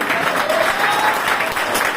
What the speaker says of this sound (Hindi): अरे ताली बजाओ भाई।